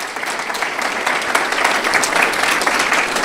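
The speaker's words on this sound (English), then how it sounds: "Let's give these students a nice round of applause in their absence." A school audience gives a round of applause for absent students at a superintendent's citation ceremony, dense and steady clapping filling a few seconds.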